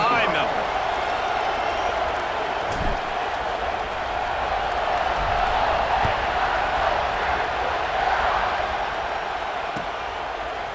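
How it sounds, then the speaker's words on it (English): A large stadium crowd roars steadily at kickoff in the College Football 26 video game, a dense, continuous wash of cheering that holds level for the whole stretch with a few sharper thumps mixed in. "They're set to kick it off, and this crowd now ready to get behind them."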